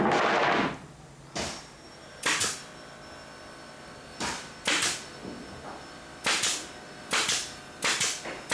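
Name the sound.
nail gun shooting brads into wood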